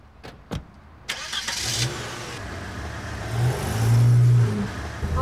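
A car engine cranks and fires after a couple of sharp clicks and thumps, idles briefly, then revs up and pulls away, the engine note rising and swelling loudly toward the end.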